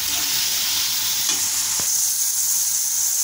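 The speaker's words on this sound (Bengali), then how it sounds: "অনেক সময় আমার চুলার বা রান্নার আওয়াজে আমার কথাটা ভালো করে বোঝা যায় না" Food frying in a pan on a stove gives a steady, loud, close sizzle with a brief stirring scrape partway through, and no voices.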